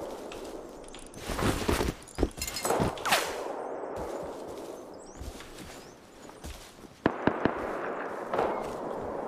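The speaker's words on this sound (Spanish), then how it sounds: "Me disparan" Gunfire aimed at the player in the video game Rust arrives as a few scattered loud cracks and thuds over a steady noisy background, with sharper shots clustered toward the end.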